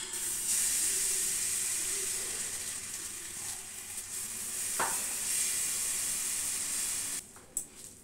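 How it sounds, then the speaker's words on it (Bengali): Gola roti, a batter flatbread, frying in a pan with a steady, dense sizzle and hiss, close and continuous, with a brief scrape near the middle and a clatter toward the end. "সকালের টিফিন হচ্ছে এই যে গোলা রুটিগুলো ভেজে নিচ্ছি।"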